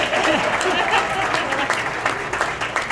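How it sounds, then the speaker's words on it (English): Concert audience applauding a singer at a big band Broadway tribute show, a dense, full roar of clapping with voices mixed in and scattered louder claps near the end. "How about a nice round of applause for Patrice, ladies and gentlemen"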